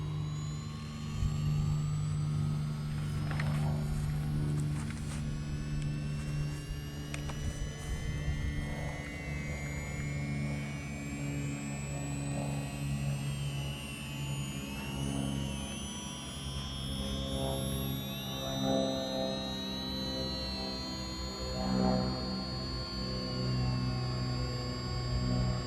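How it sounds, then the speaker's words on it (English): The flywheel of a LOSI Promoto MX 1/4 scale RC motorcycle spins up with a steady, rising jet-like whine that climbs in pitch and holds, with faint handling noise around it. "we have this switch right here that says flywheel. We're just going to turn that on, and you'll hear it power up."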